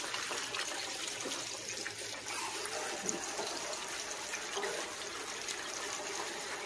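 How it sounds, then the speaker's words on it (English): Tap water runs steadily over hands being washed, a continuous close splashing hiss with slight shifts as the hands move, and no voices. "washing my hands right now."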